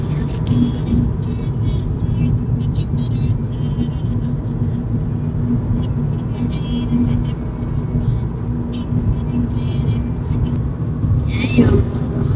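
A car cruises along a highway with a steady, close road rumble and engine drone throughout, and faint voices now and then inside the car.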